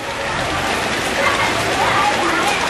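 Heavy rain falls steadily, giving a dense, loud, even hiss that runs through the whole stretch with no break.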